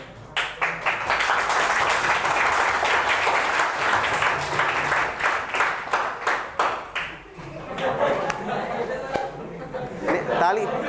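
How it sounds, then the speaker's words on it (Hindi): A classroom of students claps loudly in a burst of dense applause with distinct hand strikes, fading briefly before swelling again, with voices heard among the clapping. "ताली बजाते समय इस बात का ध्यान रखा करें"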